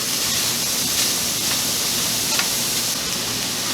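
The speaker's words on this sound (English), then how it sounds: "I added a little bit more water and am stirring it and letting it steam down." Broccoli stirred in a wok with a little added water, giving a steady loud hiss of steam and sizzling throughout, with faint scraping from the stirring.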